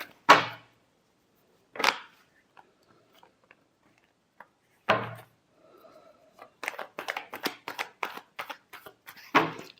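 Tarot cards are shuffled in short bursts of papery riffling and flicking, a few isolated snaps with quiet gaps between, then a quick run of clustered card sounds close up.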